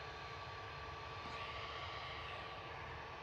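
A jet airliner taxiing at Manchester Airport, a faint, distant, even engine hum with a thin whine on top that stays constant, heard alone without speech.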